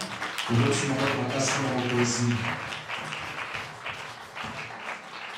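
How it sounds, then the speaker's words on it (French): A congregation at a church service claps together for a few seconds while a voice sings or speaks over it, and the clapping thins out as the voice continues. "On applaudit pour le Seigneur."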